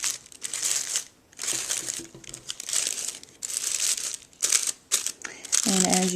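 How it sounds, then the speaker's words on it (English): Tissue paper flower petals being fluffed and crinkled by hand, bursts of crisp close rustling and crumpling separated by short pauses, with a voice speaking briefly at the end. "And then I'm going to fluff out the petals of the tissue paper."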